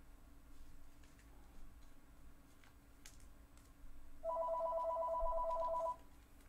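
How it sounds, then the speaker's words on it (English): A telephone rings with a rapid electronic trill for about two seconds, fairly loud over a quiet room hum, with faint clicks and taps around it. "God, the phone's so loud."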